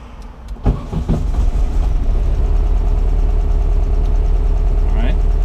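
A 1968 VW Bug engine cranks over with a few sharp clunks, then catches and settles into a steady, loud low idle rumble, with a faint squeak near the end.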